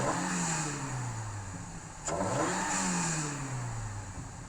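A Toyota GR86/Subaru BRZ fitted with a cold air intake, revved loud and close: the engine note sweeps down, then blips sharply and climbs again before falling away.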